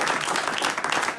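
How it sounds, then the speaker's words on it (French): A church audience applauding during a service, a brief burst of dense, continuous clapping at moderate loudness. "Est-ce qu'il ne mérite pas qu'on l'acclame ce matin?"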